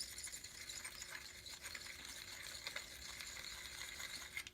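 A hand deburring tool is turned inside a drilled hole in a metal dune buggy bracket, giving a faint steady scraping, metallic grind with small clicks, close by and without talk.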